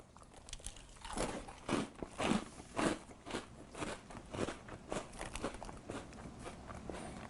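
Dry Nilla Wafer Banana Pudding cereal with marshmallows crunched close up, a steady series of loud crisp bites and chews repeating about every half second.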